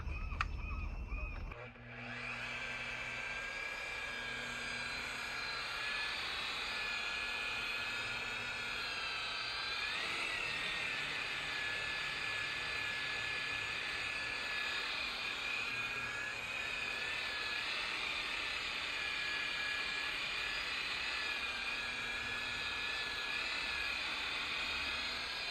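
A polisher buffing scratches out of a boat hull starts abruptly and keeps up a steady high whine, its pitch wavering slightly as pressure changes, running close and continuous for a long stretch.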